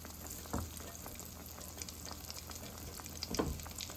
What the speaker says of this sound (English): we're going to move it right into our oil. We want to cook these